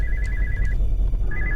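A telephone rings in the horror game Spooky's Jumpscare Mansion, a loud electronic trill that sounds twice with a short pause between, over a low droning hum.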